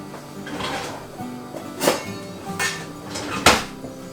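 Shrimp kabob pieces go into an oiled skillet with a few sharp clatters and clinks of metal and pan, spaced out over soft background noise, with no voices.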